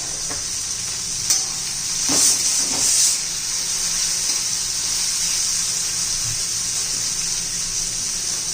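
Hot oil sizzles steadily as asafoetida is added to a pan of peas and cluster beans, a close, continuous hiss with a couple of brief clinks partway through and no talking.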